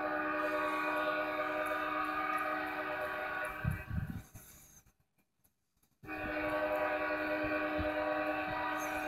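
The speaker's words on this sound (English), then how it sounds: "Eighteen cars of Carolyn Piedmont freight." A Carolina Piedmont freight train of eighteen cars, led by two locomotives, passes a grade crossing in Fountain Inn, South Carolina after heavy rain, a loud steady rumble with a sustained horn tone that cuts out briefly before the noise resumes.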